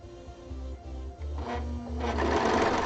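A sewing machine runs an overlocking stitch in short rhythmic bursts of mechanical whirring, close and moderately loud, with pauses between runs and the motor speeding up toward the end.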